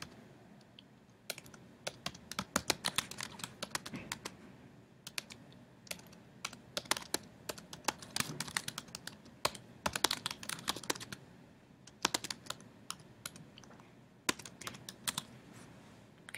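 Fingers type text on a computer keyboard in irregular bursts of quick, close clicks separated by short pauses, with no voices.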